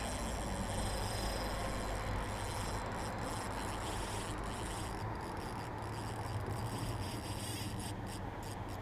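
Fishing reel drag paying out line as a 20 lb king salmon runs downriver at Berrien Springs, a sustained raspy buzzing hiss that continues without pause, faint and steady against the outdoor background.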